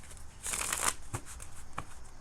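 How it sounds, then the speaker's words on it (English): A deck of tarot cards is shuffled close up in a few quick riffling bursts, the loudest near the start and softer ones after, with no talking. "let me shuffle again and then pull a couple of cards on Mags."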